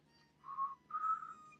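Someone whistles two short, soft tones in a row, close and quiet with nothing else around.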